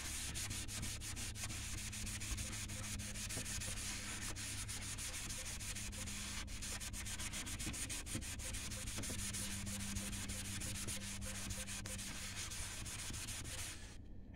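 A cleaning cloth rubs steadily across a faded car headlight lens treated with Meguiar's color restorer, making a continuous close, even scrubbing hiss that runs without pause for the whole stretch, with no talking.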